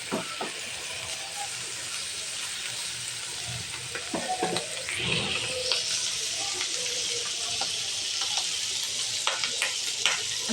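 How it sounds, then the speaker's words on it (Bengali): Chicken and tomato ketchup fry together in a pan for a noodle dish, with a steady close sizzle and hiss throughout and intermittent scrapes and clacks of stirring. "এটাকে এখন চিকেনটার সাথে মিশিয়ে একটু ভেজে নিচ্ছি"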